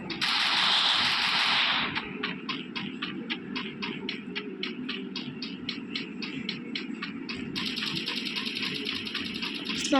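Rapid automatic gunfire rings out in the mobile battle-royale game Free Fire Max, a long burst then a steady string of evenly spaced shots, with another dense burst near the end.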